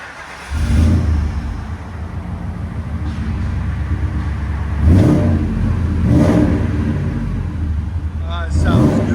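A 2000 Ford Excursion with a 5.4L V8 and Flowmaster Super 50 Series exhaust idles with a deep, steady rumble, then revs up in several distinct swells, each rising and falling back to idle, close and loud.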